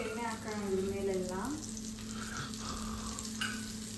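Cooking oil sizzling in a pan, as a steady close hiss that runs throughout, while a voice speaks over it near the start.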